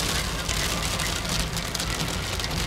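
Heavy rain pours onto a road on the way to Manali, a dense, steady hiss of drops on the surface that fills the whole stretch with no pauses.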